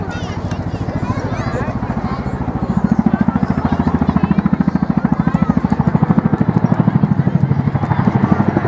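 A Chinook helicopter flying a nose-over display at the Wales National Airshow, its twin rotors producing a loud, steady, rapid blade thumping throughout that grows stronger partway in, with a commentator talking over the public address.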